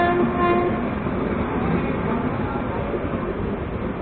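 The Pushpak Express passing close alongside on the line near Ghaziabad Junction, a loud continuous rumble and rattle of rail cars that holds steady throughout, heard from a neighbouring train.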